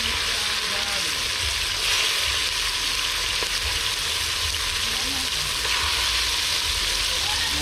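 Meat frying in a pot over an outdoor fire at a riverside cooking yard in Jamaica, giving a steady, dense sizzle that runs continuously throughout with faint background sounds.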